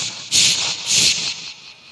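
A voice mimics a pressure cooker whistle, giving two loud, sharp steamy hisses and then a fading, softer hiss, close and alone with no other talk.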